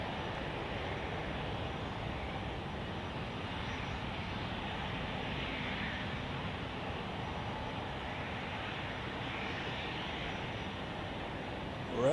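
An airliner takes off from Zurich Airport on a gusty crosswind day, its engines a steady broad roar heard from a distance, holding fairly even throughout without any voices.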